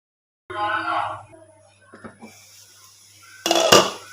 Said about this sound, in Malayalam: അഞ്ച് മിനിറ്റിന് ശേഷം മൂടി തുറന്ന് ഒന്നും കൂടി ഒന്ന് ഇളക്കി കൊടുക്കുക